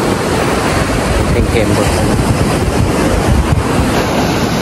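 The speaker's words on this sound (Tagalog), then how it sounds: "Binangga mo na yung mga alon" Ocean waves surge and crash onto a beach in Zambales, a continuous roaring wash mixed with gusty wind buffeting the microphone, with brief voices over it.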